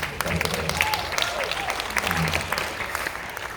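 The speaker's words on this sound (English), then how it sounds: "we should applaud for Paul, because Paul did the mix" An audience at a film Q&A session bursts into sustained clapping, a dense, steady applause from a crowd in a hall lasting several seconds, with a voice faintly underneath.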